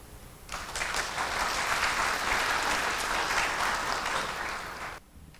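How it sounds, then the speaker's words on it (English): A forum audience applauds as a former vice president is welcomed to the stage, a dense, steady wash of clapping that swells in and holds for about four seconds before cutting off, heard alone without speech. "please welcome former Vice President Vincent Hsu to the stage with this round of applause."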